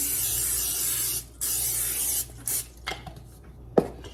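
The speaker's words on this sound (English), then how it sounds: "And we're going to spray our pan." Cooking spray hisses onto a casserole pan in two long bursts and a short third, followed by a few light clicks and taps.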